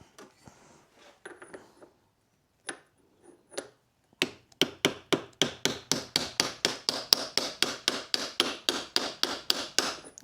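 A drift is hammered to drive a centre bearing onto a Morris Marina propshaft held in a vise: a quick run of sharp, evenly spaced metallic blows, loud and close, after a few quieter taps and some brief talk.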